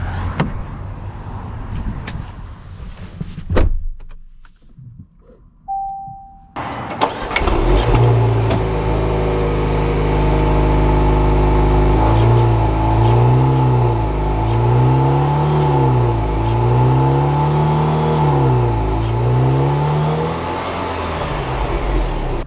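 A 2021 Range Rover Sport Silver Edition hybrid starts up after a quiet cabin moment, then pulls away with a steady engine hum whose pitch rises and falls through repeated gear changes, heard close from inside.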